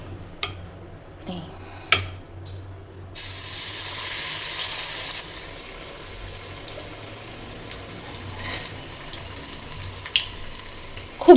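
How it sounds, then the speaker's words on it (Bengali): Cauliflower pakora in batter is dropped into hot oil and fries, a steady close sizzle that starts after a few sharp clicks and knocks and carries on with occasional small pops. "ভাবছি আগে ফুলকপিটা ভাজি।"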